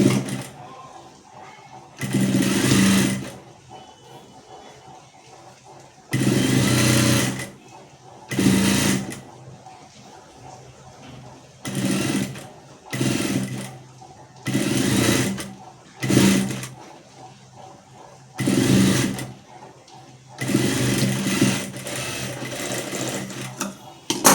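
A sewing machine stitches a blouse in repeated bursts of fast mechanical whirring, each lasting one to two seconds and separated by pauses, with someone talking in between.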